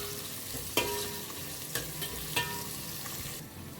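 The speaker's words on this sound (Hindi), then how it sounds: "तो प्याज के मैंने यहाँ पे 1-2 मिनट के लिए अच्छे से भून लिया है" Onions frying in a pan for biryani sizzle steadily up close, and a few sharp scraping stirs of a spatula cut through the continuous hiss.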